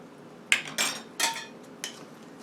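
Almonds and sugar being stirred in a dish, four distinct scraping clinks of a utensil against the dish at an uneven pace, close and fairly loud against a quiet background.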